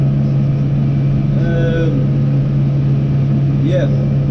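A New Holland T6 tractor engine runs flat out on full revs while pulling an empty trailer during a spring barley harvest, giving a steady loud drone with a strong low hum throughout, and a voice speaks over it.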